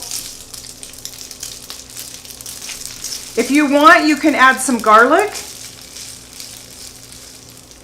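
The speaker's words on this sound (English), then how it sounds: "I'm going to throw in some noodles. This is going to sizzle." Olive oil crackles and sizzles loudly for a couple of seconds as noodles hit a hot pan, then settles to a quieter hiss while a person talks over it.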